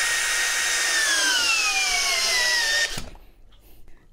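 An Ingco cordless impact drill whines at high speed in first gear, its pitch sliding steadily downward, then cuts off abruptly, leaving near silence.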